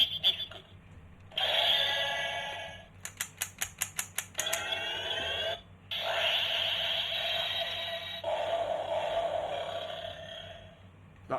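Toy sound effects from a Shinkenger Inromaru for the Shishi disc, borrowed from a Showa-era phone prop: a bright electronic warble, then a fast burst of repeated chirping beeps, then a sustained shimmering electronic tone, all loud and close.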